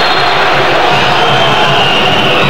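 A dense stadium crowd at a South American futsal match against Brazil roars in a loud, continuous wash of jeers and whistles, close and unbroken throughout.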